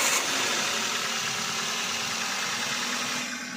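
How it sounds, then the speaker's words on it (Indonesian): A car engine runs at a steady idle after starting during a tune-up, with an even mechanical hum and a faint knocking vibration, fairly close and constant, with no talking. "Kita hidupkan mesin."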